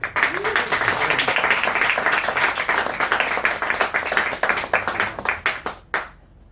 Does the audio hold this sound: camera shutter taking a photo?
no